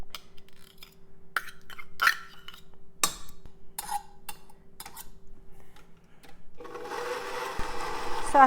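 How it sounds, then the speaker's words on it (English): Electric mixer on a low setting whirring through lard and sugar for molasses cookie dough, a faint steady motor hum with scattered clinks and knocks against the bowl, then growing louder toward the end. "we're just stirring up the lard and the sugar"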